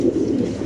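A racing pigeon from a club loft coos close by, one short, low throaty burble with nothing else heard alongside it.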